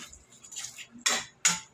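A spoon knocks against a pan while a dish is mixed, a few soft scrapes followed by two sharper metallic clinks close by, with no voices.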